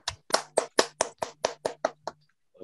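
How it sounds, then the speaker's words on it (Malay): About ten sharp hand claps in a quick, fairly even rhythm in a classroom teaching demonstration, close and distinct, with a faint hum under some of them and no talk. "berikan tepukan kepada masing-masing"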